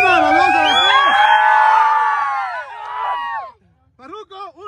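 Loud crowd of children and adults shouting and cheering together as a vote in a sports competition, a dense burst of overlapping yells that fades after about three seconds, followed by a few short excited calls.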